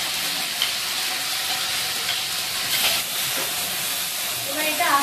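Ground green pea paste with green chillies and ginger frying in a wok, a loud steady hissing sizzle with soft scraping stirs throughout.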